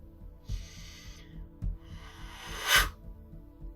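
Slow, hissing breathy blows of rapé snuff through an applicator tube, two drawn-out pushes ending in a stronger puff, soft and close over a low rhythmic hum.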